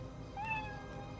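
A single short cat meow from a television episode, faint and slightly muffled, rises and falls over a low background hum, with no talking.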